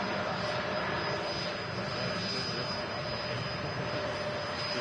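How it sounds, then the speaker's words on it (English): A Lufthansa Airbus A321neo jet approaches at Manchester Airport, its engines making a steady, fairly distant roar with a high whine running through it, and no talk. "it's a nice head-on of the Lufthansa A321 Neo"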